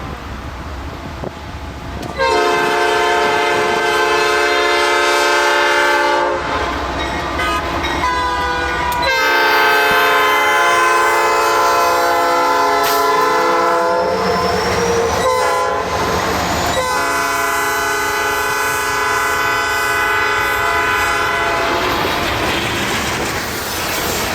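A loud horn blares in long repeated blasts as a heavy coal freight train rumbles past nearby at Glen Alpine, wheels clattering over the rails underneath.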